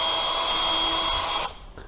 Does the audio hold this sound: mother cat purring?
no